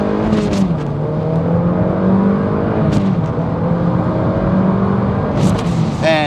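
A Mazda MX-5 NC with a manual gearbox accelerating from inside the cabin, engine note climbing and dropping as it shifts through gears, loud and continuous with road and wind noise.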